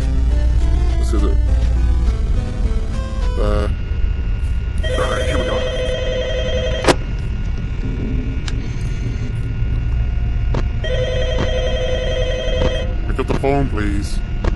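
A telephone rings twice in the FNAF night-shift scenario in VRChat, each time a repeated electronic trill under loud, busy game noise and overlapping talk.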